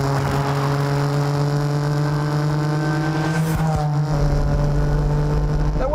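A 1958 Saab 93B with a small two-stroke engine drives along, its buzzy, steady engine drone loud and close, holding a constant pitch before a brief shift and a rumbling change near the end.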